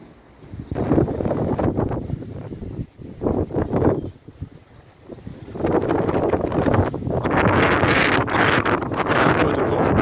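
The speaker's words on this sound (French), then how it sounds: "Un peu de vent, comme souvent" Gusty wind buffets the microphone outdoors in front of a Protestant chapel in Saxon, with loud rumbling bursts in the first seconds, a brief lull, then a sustained strong blow to the end.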